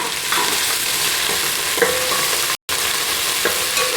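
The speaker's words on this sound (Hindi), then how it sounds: "अब इसमें मैं अदरक लहसुन डालूंगी और इसको मैं थोड़ा सा फ्राई करूंगी।" Loud, dense sizzling of ginger and garlic frying in a pan with occasional stirring clinks, steady and close, briefly cutting out for an instant.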